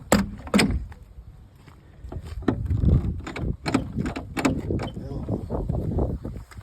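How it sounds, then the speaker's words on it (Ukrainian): A hood being opened on a rust-damaged 2012 DAF truck: a handful of sharp mechanical clunks and rattles, close by, with quieter scraping between them and some indistinct voices in the workshop. "Капот класно відкривається"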